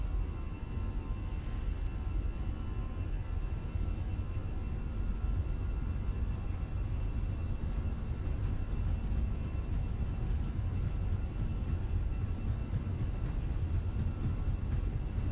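Airbus A320 engines at takeoff thrust in a flight simulator roar as a steady, dense broadband drone, loud and unchanging throughout with no voices over it.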